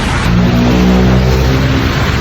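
Honda PCX scooter engine running loud and steady, a continuous close drone with a slight rising rev, no speech.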